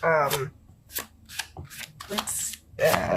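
Tarot cards are shuffled by hand in several quick riffling and sliding bursts, close and crisp, while someone talks over them.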